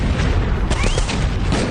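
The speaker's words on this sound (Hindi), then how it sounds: "एक बड़ी बिल्डिंग पर बारूदी वर्षा हुई और धमाके की गूंज सुनाई दी।" Booming explosion from a bombardment of a large building in the Russia-Ukraine war, a dense, loud rumbling blast that fills the whole stretch, with a brief whistling streak partway through and no voices.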